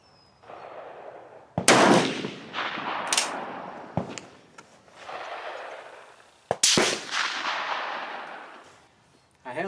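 Shots from a 1945 Swiss K31 rifle ring out at an outdoor range, three or four sharp, loud cracks spaced a couple of seconds apart, each trailed by a rumbling echo, with someone talking between them.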